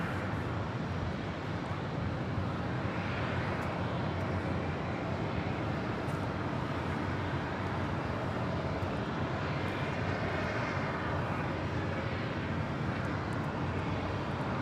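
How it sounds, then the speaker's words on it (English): A Singapore Airlines Airbus A350 takes off at Los Angeles International Airport, its jet engines a continuous, distant roar with wind-like rush that holds steady throughout. "Singapore Airlines Flight 37 heading back to Singapore, that A350."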